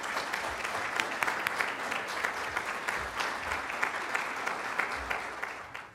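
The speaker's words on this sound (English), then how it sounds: "I'd like to give a round of applause to Debbie Zelman" A symposium audience gives a sustained round of applause for a stomach cancer education speaker, dense steady clapping filling the room at moderate volume for several seconds and tapering at the end.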